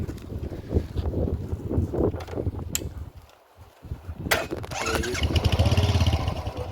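A motorcycle engine rumbles nearby, dipping briefly then revving up louder, with wind buffeting the microphone.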